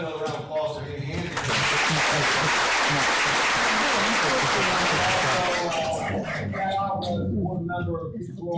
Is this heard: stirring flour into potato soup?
no